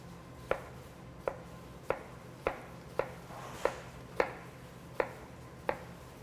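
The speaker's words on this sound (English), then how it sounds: "I'm gonna start off with cutting up the vegetables for the just the sides." Vegetables are chopped on a cutting board with nine sharp, evenly spaced knife strokes at a steady rhythm, close and fairly quiet over a low background hum.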